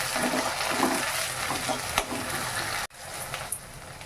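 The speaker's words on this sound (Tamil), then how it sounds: "அது கூடவே கொஞ்சம் ஃப்ரெஷ் பட்டாணி இது நல்லா போட்டு நல்லா பொன்னிறமாக வதக்கி எடுக்கணும்" Fresh peas with ginger-garlic paste are sautéed in a pan, making a close, steady sizzle with light stirring scrapes and a sharp knock near the end.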